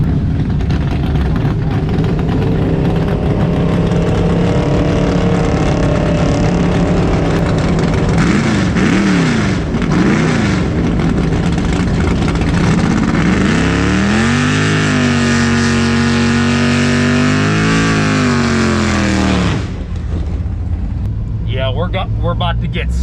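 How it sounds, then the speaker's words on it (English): Jeep Trackhawk drag racing a Monte Carlo SS on big tires: loud, sustained engine roar with rising revs and gear shifts, building to a high wail before cutting off, heard close with a voice talking over the engine noise. "Alright, we're going up against this Monte Carlo SS."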